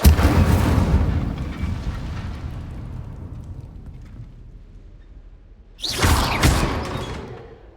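A fire spell cast in Hogwarts Legacy bursts out with a loud roaring whoosh that fades over several seconds, followed by a second sharp blast of flame near the end.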